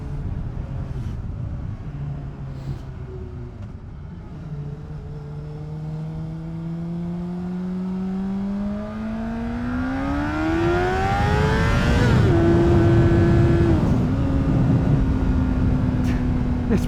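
A 2010 Honda CBR600RR PC40 supersport motorcycle under way, engine note climbing steadily in pitch as it accelerates hard over many seconds, then a quick dip at a gear change and a high sustained whine, loud with wind rush throughout.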